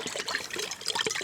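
Water being poured from a jug into a container outdoors, a close, quiet sequence of splashing gurgles and trickles with uneven rhythm, no voices.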